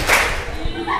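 A group of girls in a religious study class claps in unison, a loud burst near the start and a softer clap later, within about a second.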